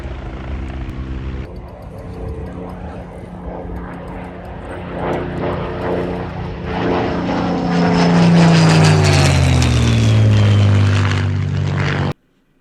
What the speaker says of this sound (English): there's helicopters, there's Spitfire flying over